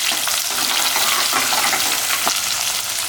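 Shallots and peanuts fry in hot oil for a lemon rice dish, giving a steady, loud, close-up sizzle throughout with faint crackles and no talking.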